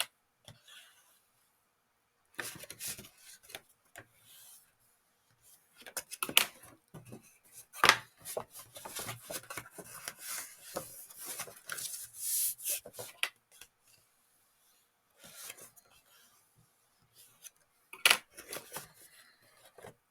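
Cardboard chocolate box sides being folded and burnished, giving scattered dry rubbing and scraping strokes with sharp taps and clicks, bursts of activity separated by quiet pauses, close and moderately loud.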